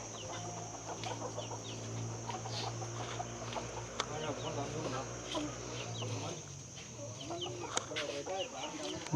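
Chickens of various breeds kept in a Thai village cluck and chirp in a busy, overlapping flock over a low steady hum, with occasional speech mixed in.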